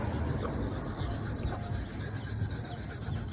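Old suspension bushing material is scraped off a 1994 Honda Civic hatchback trailing arm, a close, continuous rasping rub with short repeated strokes and no talk.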